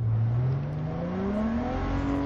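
A car engine in Cyberpunk 2077 revs up steadily, its deep droning pitch climbing smoothly as the car accelerates, loud and continuous with no voices over it.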